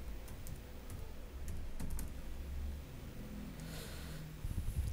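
Fast, close keystrokes clatter on a computer keyboard while text is entered into a PowerPoint slide, with some louder isolated key taps, and no one talking.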